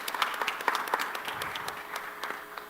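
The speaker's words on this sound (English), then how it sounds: "So a huge round of applause again." A conference audience applauds at the close of an urban investment panel, a steady patter of many hands clapping at moderate distance, fairly faint and even throughout with no speech over it.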